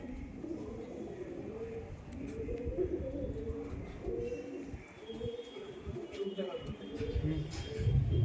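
Tournament pigeons coo in soft, low rolling phrases that repeat throughout, mixed with someone talking nearby and some light handling noise.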